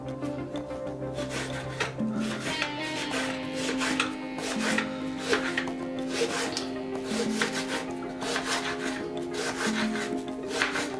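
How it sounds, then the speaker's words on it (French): A knife cuts through an onion in a steady series of soft, rasping strokes against a board. The strokes repeat at close range for about eleven seconds. "je viens découper mon oignon"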